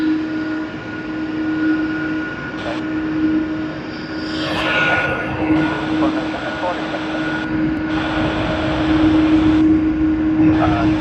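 A steady aircraft engine hum at Sydney Airport, an Asiana Airlines jet on flight OZ602, droning continuously with a brief swell midway, while air traffic radio chatter talks over it.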